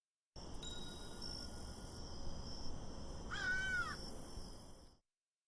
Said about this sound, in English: sound like a bell and then a crow,